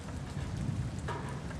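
Steady rain in the video game Following Seas, viewed from a sailing ship in open view, a continuous close hiss of falling drops with a low rumble underneath, no voices.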